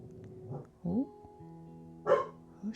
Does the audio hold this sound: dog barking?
yes